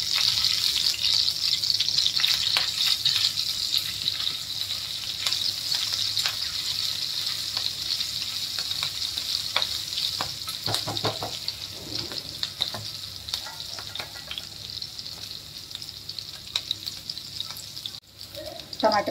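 Chopped green chillies with asafoetida frying in hot oil in a pan while being stirred, a strong steady hiss that slowly eases, with occasional scraping and a faint clatter near the end.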